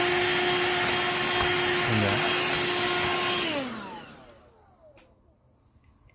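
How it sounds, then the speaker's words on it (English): A Kobot RV353 robot vacuum is being vacuumed out by a loud vacuum cleaner, running steadily near the mic before shutting off and whining down over its last couple of seconds, with a brief spoken phrase early on. "and then you can vacuum it."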